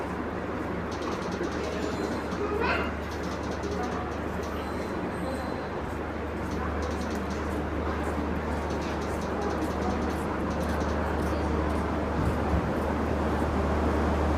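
Inside a carriage of the Garib Rath Express, the train runs with a steady low rumble and hum, faint rattles and clicks layered over it, continuous throughout and moderately loud.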